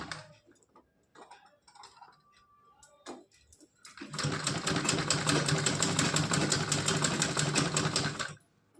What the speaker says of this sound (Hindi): अब यहाँ पे हम सिलाई लगा देंगे